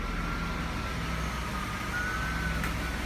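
Steady low engine rumble of an E36 BMW reversing slowly, with a faint high tone running through it; no voices.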